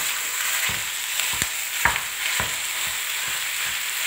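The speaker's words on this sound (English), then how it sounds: "now we will add the minced meat" Chopped onion and garlic sizzling hard in a pan for Greek moussaka, a constant loud hiss with several sharp spatula taps and scrapes, nobody speaking.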